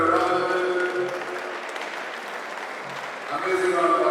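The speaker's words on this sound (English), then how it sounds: "amazing round of applause?" Audience applause at a good-governance symposium in South East Nigeria, a steady patter of clapping mixed with a speaker's voice over a loudspeaker at the start and end.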